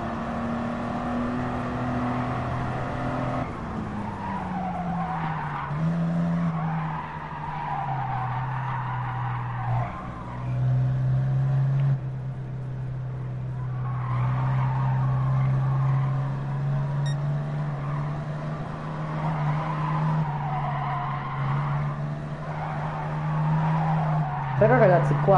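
A race car in Gran Turismo Sport drives continuously, its engine droning and shifting pitch while tires squeal and skid through corners, with a sharper burst near the end; someone talks over it at times.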